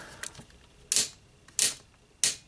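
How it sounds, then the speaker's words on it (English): Shoulder ratchet joints on a Power of the Primes Starscream transformer toy clicking as the arm moves, four sharp, close clicks spaced roughly evenly apart over quiet background. "God awful ratchets in the shoulders going forward and back."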